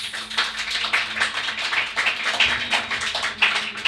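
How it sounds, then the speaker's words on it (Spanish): A pub audience claps for Mariana at a live horror-storytelling show. The clapping is fairly close and comes in uneven bursts rather than a full roar, as though from a small crowd. "Un aplauso para Mariana."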